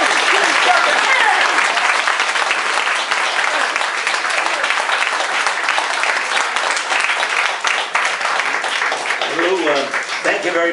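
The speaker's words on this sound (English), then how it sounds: "Please clap your hands." A church audience claps loudly after a personal testimony, a dense sustained round of applause close and strong throughout, with a voice emerging near the end.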